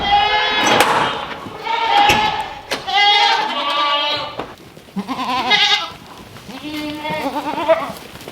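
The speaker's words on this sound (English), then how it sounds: "as you can hear, the goats are hungry" Several goats bleat loudly and repeatedly, overlapping calls rising and falling close by, with a few short pauses between bursts.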